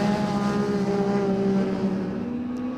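Retro rallycross car on the muddy, boggy verge at Pembrey, drifting wide and powering back onto the tarmac: a steady, loud engine drone with a sustained harmonic whine, close and continuous throughout.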